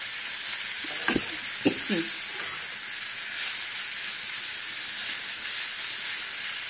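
Boiled drumstick leaves sizzle and hiss in a hot pan, a steady frying crackle with a few sharp scrapes of stirring near the start and no talking.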